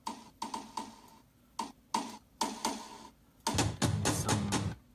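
Cowbell in a layered party track with authentic drums, sounding as crisp, evenly spaced metallic clicks in a loose rhythm before a denser burst of percussion hits joins in near the end.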